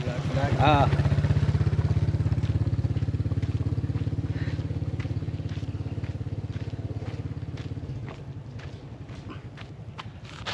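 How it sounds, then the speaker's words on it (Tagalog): A motorcycle engine drones loudly and steadily close by in a rural spot under mango trees, then fades slightly toward the end, with a voice briefly audible near the start. "May motor."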